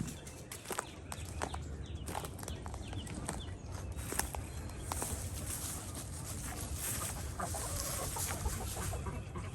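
Several chickens cluck and call continuously inside a coop, with scattered sharper squawks and a few soft footsteps over a steady farmyard background.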